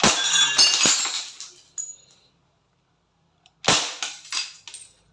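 Crosman Phantom air rifle firing at a Red Horse beer bottle: a sharp shot and a crash of breaking glass with tinkling shards, a short quiet gap, then another loud crack followed by more glass clinking, close and with no talk.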